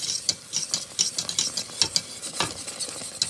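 A spoon stirs a pot of boiling cherry jam in quick, rhythmic strokes, with close scraping and clicking against the pot over a soft bubbling hiss.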